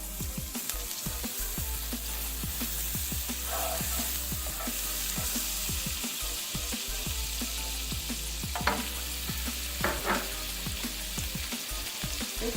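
Gözleme made from ready yufka frying in butter in a pan gives a steady, close sizzle throughout, with faint scraping and stirring clicks scattered over it and no talking.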